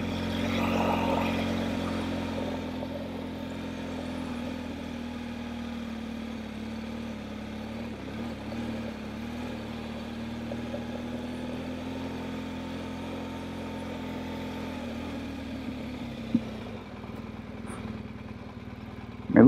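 Adventure motorcycle riding a rough unmaintained Class VI back road in New Hampshire, its engine holding a steady low drone throughout, close and continuous, with a few small knocks near the end and no talk.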